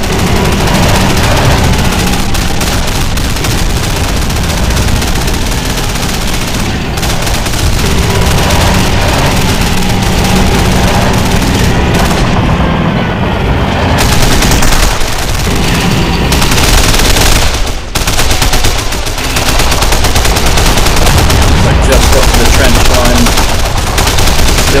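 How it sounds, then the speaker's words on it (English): Dense, continuous battle noise from the Men of War video game: a creeping artillery barrage with booming impacts under constant machine-gun and rifle fire, loud and unbroken, with a voice briefly audible in the mix. "They've returned fire. Creeping barrage."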